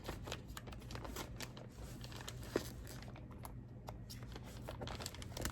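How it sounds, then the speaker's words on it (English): Small scissors snip and slice through the cardboard and plastic wrapping of a subscription box package, close crinkling, rustling and scraping with irregular cuts and one sharp snip partway through, no voices. "Got my little scissors, so let's cut her open."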